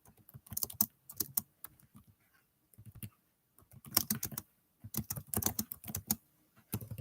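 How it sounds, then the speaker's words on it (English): Close, quiet typing on a computer keyboard in bursts of rapid key clicks separated by short pauses, with no voices. "I'm trying to type, y'all."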